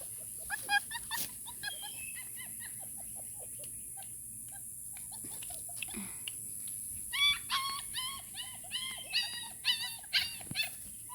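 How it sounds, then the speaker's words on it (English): Newborn sable puppies whimper and squeak in thin, high cries, sparse at first and then bunching into a rapid run of overlapping whines near the end, close by over a faint background hum. "Little Sable puppies."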